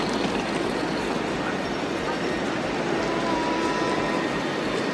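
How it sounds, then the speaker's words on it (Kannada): Busy train station in Switzerland, a steady wash of crowd murmur and rumbling platform noise with faint distant announcements and machinery, loud and continuous throughout. "ಸೊ ಬಂದ್ವಿ ಟ್ರೈನ್ ಸ್ಟೇಷನ್ಗೆ."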